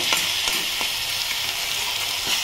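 Tomato masala fries in oil in a pan and is mashed with a spoon, giving a loud, steady sizzle close by, broken by soft scraping and pressing taps.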